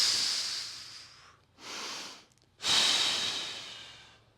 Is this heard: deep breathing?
yes